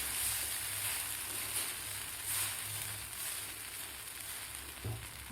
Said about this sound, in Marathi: व्यवस्थित आपल्याला हलवायचं आहे.